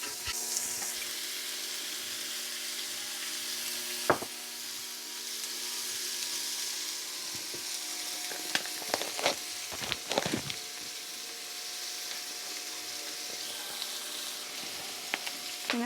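Meat frying in bacon grease makes a constant soft sizzle in a pan, broken by occasional scrapes and knocks of a spatula. The sound is close and moderately quiet, with no speech.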